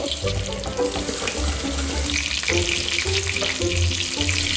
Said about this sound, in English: Yes, you heard some water. I also like that sound.